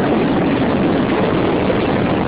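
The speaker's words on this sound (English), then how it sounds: "Booster ignition and liftoff of the Space Shuttle Atlantis, building the station and our future in space." Space Shuttle Atlantis lifts off on its booster rockets, a dense, steady roaring rumble that fills the whole stretch with no break or talk.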